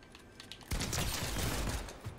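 Fortnite gunshots erupt as a sudden rapid burst of fire, a dense crackling volley that runs nearly two seconds after a quieter lead-in of light clicks, with no talk over it.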